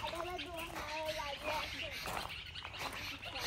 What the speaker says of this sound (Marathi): हे बघ तुम्ही का आवाज असा एवढा पक्ष्यांचा आवाज येत ना भारी